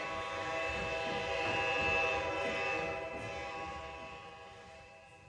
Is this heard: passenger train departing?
yes